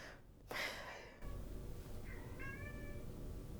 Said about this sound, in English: so if you hear meowing...